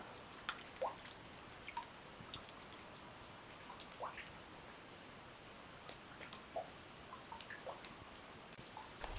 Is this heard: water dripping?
yes